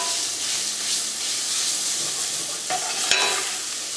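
Ginger garlic paste fries in hot oil in a pan while cooking a Kerala-style chicken masala, giving a steady close sizzle and hiss, with a couple of brief scraping stirs near the end.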